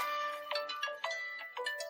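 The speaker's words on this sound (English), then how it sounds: "I didn't know my phone made this sound." A mobile phone ringtone plays a repeating melodic pattern of short bright tones, fairly faint and heard alone without talk.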